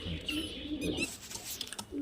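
Pigeons of Kalshira and highflyer Giribaz Madrasi breeds coo in a loft, with soft low throaty calls repeating in short bursts at close range, alongside other faint bird chirps.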